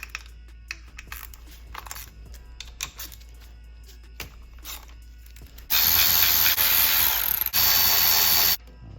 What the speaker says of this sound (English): So we're gonna pop off these 8mm bolts.